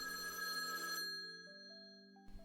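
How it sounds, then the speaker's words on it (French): An old landline rotary telephone rings with a loud, bright metallic bell tone that fills the first second, then fades into lingering, stepped tones before a short burst returns at the end. "un bon vieux téléphone fixe, souvent à cadran"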